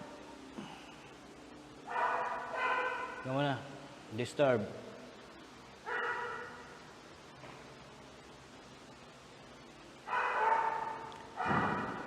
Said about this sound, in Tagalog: Tahol na naman yung aso.